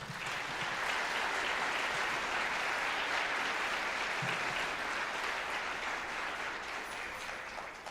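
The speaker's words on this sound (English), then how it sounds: "Can we please give them a round of applause?" After a 7-12 honor band concert, the audience applauds the students on stage, a sustained, even wash of many hands clapping heard from some distance, fairly soft and unbroken for around eight seconds.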